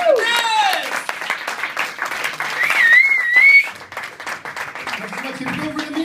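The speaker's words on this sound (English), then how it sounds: "Give a round of applause." An indoor audience breaks into applause, with close clapping mixed with excited voices and shouted responses, then tapers off as speech resumes.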